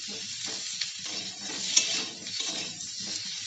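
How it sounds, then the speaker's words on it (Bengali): Boiled potatoes frying in hot mustard oil, a steady close sizzle broken by the scrape and clatter of stirring in the pan. "তেল খুব ভালোভাবে গরম হলে আমি সেদ্ধ করে রাখা আলুগুলো দিয়ে ভেজে নেব।"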